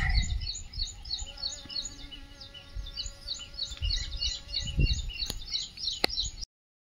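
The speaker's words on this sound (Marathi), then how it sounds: "मी तुम्हाला दाखवतो ती मधमाशी कशी रस पिऊ राहिली" Soft honeybee buzzing hovers close over a mango outdoors, with birds chirping repeatedly in the background and a couple of sharp clicks.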